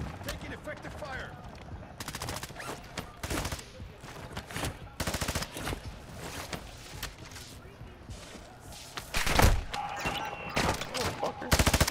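Bursts of gunfire in a video game, loud and near, come in repeated short volleys and single cracks spread across the scene, with voices talking between them.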